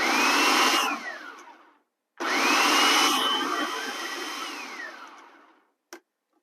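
Blender pulsing black beans for burger mix: two loud motor bursts that spin up and wind down, a short gap between them, then a brief clack at the end, with no talking.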